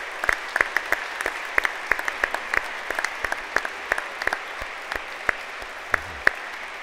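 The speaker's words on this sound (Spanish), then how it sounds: "quería pedirles a todos un aplauso para la organizadora del festival, María Sheila Cremasi" An audience at the opening of the Hay Festival Segovia at IE University applauds the festival organiser. The clapping is sparse and scattered, with distinct individual claps that thin out over several seconds.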